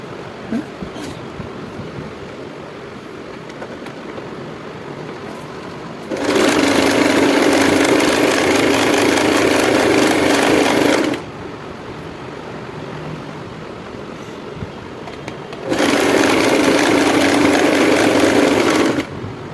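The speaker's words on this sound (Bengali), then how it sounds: "এই দুটো আমি সেলাই করে নিচ্ছি" A sewing machine stitches the hip panels of three-quarter pants, running loud and steady in two long bursts of several seconds each, with quiet pauses between.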